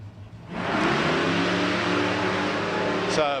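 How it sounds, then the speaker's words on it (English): A pair of drag racing cars fitted with wheelie bars launch into a loud, sustained engine roar that rises sharply and holds steady. "Well, how about a pair of 32s with wheelie bars sticking out?"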